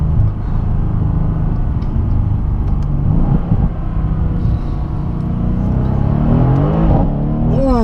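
A 2017 Mercedes C63 AMG S engine rumbles loud and close under load, with a deep steady drone that rises into revving pitch sweeps toward the end.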